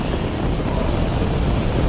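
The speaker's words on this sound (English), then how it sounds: "We have ignition. All engines are running." A Saturn V rocket's engines at ignition and liftoff make a dense, steady roar that sounds like loud, wind-blown rumble filling the whole clip, with no voices over it.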